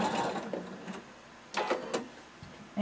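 A sewing machine backstitches the fringe of a kimono in a few short mechanical bursts of stitching separated by pauses, close and moderately loud with no talk.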